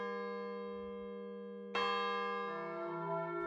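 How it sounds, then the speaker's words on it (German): A historic church bell cast in 1608 and tuned to E rings with a sustained, humming tone. Partway through a fresh strike brings a brighter burst of overtones, and a second pitch joins soon after, all heard alone. "Die alte historische Glocke aus dem Jahre 1608 ist im Ton E1 gestimmt."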